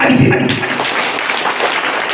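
An audience at a tenth-anniversary motivational class claps together, a dense, fairly loud burst of applause that follows a moment of talking and then holds steady.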